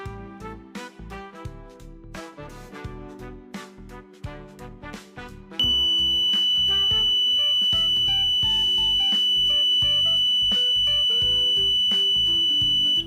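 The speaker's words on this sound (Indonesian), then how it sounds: "Jika kadar gas melebihi batas aman, maka buzzer akan berbunyi." A microcontroller gas detector's buzzer sounds its alarm: a rhythmic tonal melody of beeps first, then a loud steady high-pitched tone holding continuously to the end, close and without talk.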